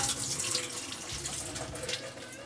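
Water running and splashing as it drains from small cubes of boiled potato in a kitchen, a steady moderate pouring sound with no voices.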